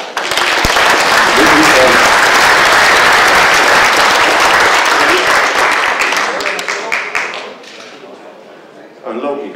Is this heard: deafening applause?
yes